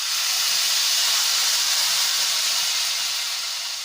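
A loud, steady hiss and sizzle bursts up all at once and slowly fades as hot ghee tempering is poured into pakoda kadhi, with no voices.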